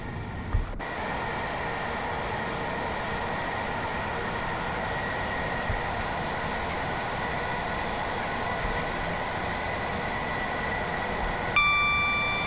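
A London commuter train running through Hawley, with a steady, even rumble and hiss of carriages on track heard from inside the train, broken only by brief clunks at the start and end.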